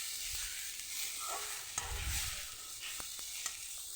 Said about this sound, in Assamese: পিঁয়াজ অকণমান আদা নহৰু তেনেকৈ ভাজি লৈ